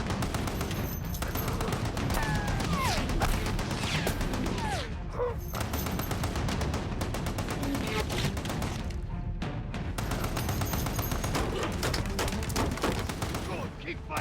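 Sustained .50 caliber machine gun fire in an action movie battle, loud and relentless with overlapping bursts and a few brief lulls, layered with other gunfire and explosions.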